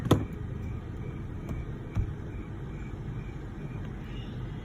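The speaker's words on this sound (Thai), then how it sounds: "รถแท็กซี่มาแล้ว" A taxi arriving near an airport gives a low, steady engine rumble that stays fairly distant and even, broken by a couple of sharp clicks, with no clear talk.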